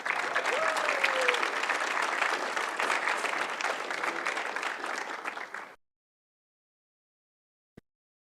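City council chamber audience applauding a youth poet laureate, with sustained, even clapping that cuts off abruptly near the end and leaves silence.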